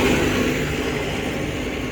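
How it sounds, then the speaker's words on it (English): A vehicle passes close by outdoors, its steady mid-pitched engine drone loud throughout and easing off slightly toward the end, with no talk over it. "You've got a bit of noise as a vehicle coming past."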